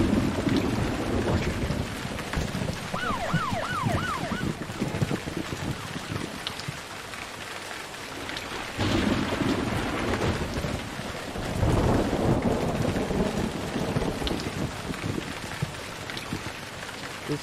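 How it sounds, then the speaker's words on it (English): Thunderstorm in the Emergency 4 video game: continuous rain with repeated rolling thunder swells and booming lightning strikes, fairly loud, alongside a faint warbling game tone. "Lightning strike."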